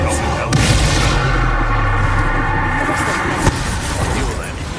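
A Bombardment spell goes off in the video game Hogwarts Legacy, giving a loud booming blast over continuous battle noise, with a sharp crack near the end.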